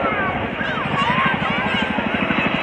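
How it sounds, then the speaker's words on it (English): A Chinook helicopter flies at an Armed Forces Day air display in Cleethorpes, its twin rotors giving a steady rhythmic thudding under a broad engine roar, heard beneath a commentator's voice over loudspeakers. "Despite its heavy lift capability, the Chinook offers impressive manoeuvrability."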